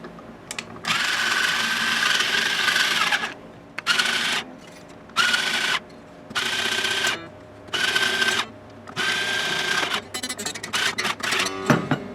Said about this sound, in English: I'm going to tighten the strings back up a little bit so that they're not just flopping around on here.